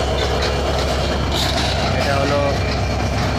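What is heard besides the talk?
intercity train from Chilahati passing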